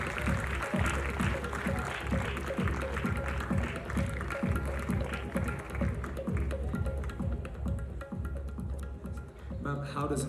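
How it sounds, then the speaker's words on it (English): Applause from an audience at a college event, Umang 2016 at NM College, with a steady rhythmic beat or stamping running underneath the whole time and a dense, loud wash of clapping that continues without a break. "Everybody in the house, let's have a huge round of applause."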